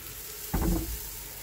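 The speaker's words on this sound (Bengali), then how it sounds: "এদিকে কড়াই আমার গরম হয়ে গেছে। এখন আস্তে আস্তে আমি দিয়ে দেব কড়াইতে গোলাটা।" Patishapta batter, for a kheer-filled crepe, is poured into a hot wok and sets off a sudden loud sizzle. The sizzle flares for about half a second, then settles into a softer frying hiss.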